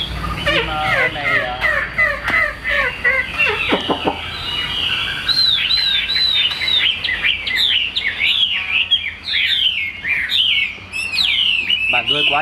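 A white-winged mutant Chinese hwamei songbird sings loudly and close by, pouring out varied, rapid whistled phrases and chattering trills with hardly a pause.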